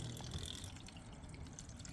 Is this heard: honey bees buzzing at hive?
no